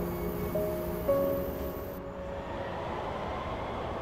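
Steady low rumble of a train with faint tonal squeals, moderately distant and continuous.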